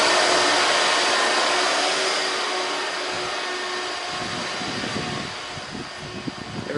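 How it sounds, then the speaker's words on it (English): A drum sander runs in a busy workshop, giving off a loud, steady, broadband whir that holds throughout, with some knocks and clatter rising underneath toward the end. "working on the drum sander."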